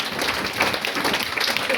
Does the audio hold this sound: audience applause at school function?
yes